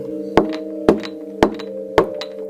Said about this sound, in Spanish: El hombre decide ir a tocar la puerta